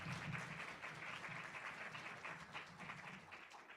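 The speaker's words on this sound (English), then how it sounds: "Let's give all the speakers one more round of applause." Applause from a conference audience for the speakers at the end of a session, a steady crowd clapping that is faint and somewhat distant, holding throughout and easing slightly near the end.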